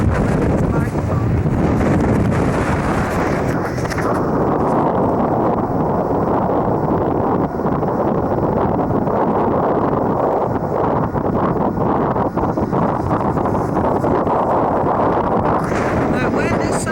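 Strong wind buffeting a microphone near a lighthouse, a steady loud roaring rumble throughout with a voice faintly present beneath it.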